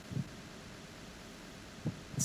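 A slow, drugged heartbeat picked up by the directional microphone in Metal Gear Solid 2, heard as a few soft low thumps with long gaps between them over a steady background hum.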